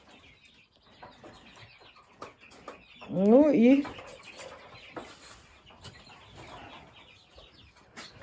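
Roosters on a farm give a short burst of loud clucking calls in the middle, amid scattered background noise and a little speech.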